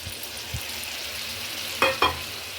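A thick yogurt and spice mix is stirred into fried onions in a pan over low gas, giving a soft continuous sizzle with a couple of sharper scraping strokes near the end.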